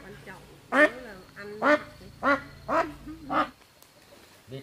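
Ducks for sale at a rural Vietnamese market quack five times in a steady rhythm, loud and close, with a voice talking underneath.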